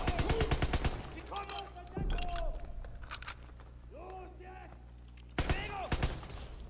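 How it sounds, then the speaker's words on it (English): A grease gun submachine gun fires in Call of Duty WW2 on D-Day: rapid automatic bursts open the scene and return near the end. Other battlefield game sounds fill the space between. "Face the wrath of the grease gun."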